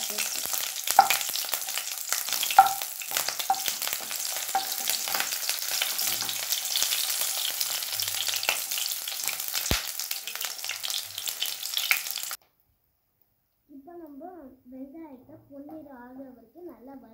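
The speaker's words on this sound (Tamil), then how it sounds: "எண்ணெய் ஊற்றிக்கிட்டு பிறகு நம்ம ஆனியன் போட்டுக்கணும். பிறகு நம்ம லைட்டாக வதக்கி விட்டுருக்கணும் ஆனியன் போட்டு." Onions frying in hot oil for curry leaf chutney, a steady close sizzle with occasional stirring clatter for about twelve seconds, then the pan noise stops and someone speaks briefly.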